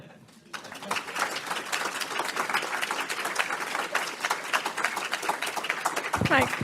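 Lecture-hall audience at a global nutrition lecture breaks into sustained applause after a brief quiet moment, a dense steady wash of clapping with a voice rising briefly near the end.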